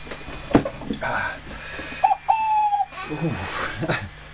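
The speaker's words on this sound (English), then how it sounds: "birds twittering" Birds chirp and whistle from a played recording, short tonal calls and a sustained whistled note scattered over a low hum, with voices talking over parts of it.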